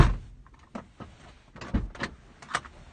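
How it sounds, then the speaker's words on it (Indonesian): Several short clunks and knocks sound as a Perodua Myvi car door is pushed shut, sharp and close in a quiet cabin. "Sekejap, tutup pintu."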